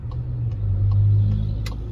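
A car rolls along a road in Mozhaisk, its steady mid-pitched engine hum and road rumble swelling slightly and easing off, with no talking.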